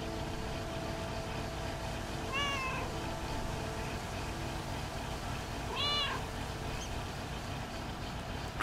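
Two clear meows from cats in the video game Lake, one near 2.5 seconds and another near 6 seconds, rising over steady low ambient background noise.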